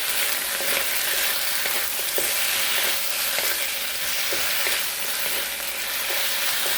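Spareribs sizzle loudly and steadily as they stir-fry in a hot pan, with occasional clinks and scrapes of stirring punctuating the constant frying hiss.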